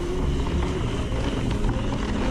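Steady roaring crosswind rushes over the microphone on a fast mountain bike trail descent, a continuous loud buffeting with no voices.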